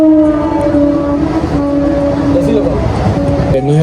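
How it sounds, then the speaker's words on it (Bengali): A train runs past a cafe right beside Palpara station, a loud, continuous rumble with long, drawn-out horn-like tones sounding close throughout, with faint voices mixed in. "অ্যাকচুয়ালি ট্রেন যাচ্ছিল পাশে"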